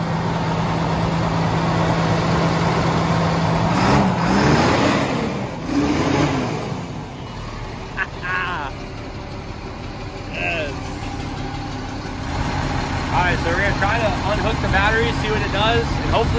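A military surplus 6x6 cabover truck engine idles steadily with a low, rough rumble, briefly picking up revs, while people talk nearby over it.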